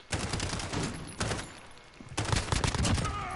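Bursts of rapid gunfire crackle in quick succession, with a pause between volleys, loud and close, in Call of Duty: Modern Warfare on PS4.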